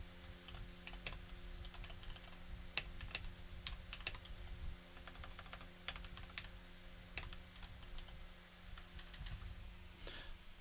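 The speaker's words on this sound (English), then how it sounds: "my microphone's all the way over here while I type something" Steady typing on a computer keyboard, with irregular clicking keystrokes close by over a low background hum and no talk.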